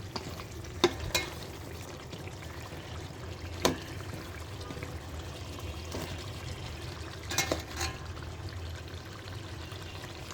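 Deshi chicken curry with bottle gourd simmering in a pot as the gravy thickens, a low bubbling sizzle with a few stirring clinks and scrapes now and then.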